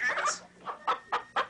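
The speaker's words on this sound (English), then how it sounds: "It's a chicken." A few short, close chicken clucks come in quick succession, offered as a mystery noise on a comedy quiz show.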